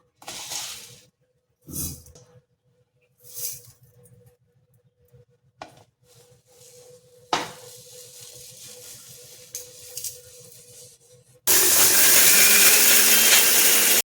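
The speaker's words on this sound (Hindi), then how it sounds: "इसको पीस लेंगे मिक्सर में डाल के, अच्छे से इसको पीस लेंगे महीन" A loud, steady electric grinding roar from a mixer grinder starts abruptly after scattered clinks and knocks, then runs continuously for a few seconds while finely grinding spices.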